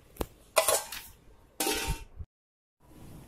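Gulab jamun dropped into sugar syrup in a pan, giving short bursts of metallic clatter and clinks in three quick clusters, then a brief silence and faint kitchen noise.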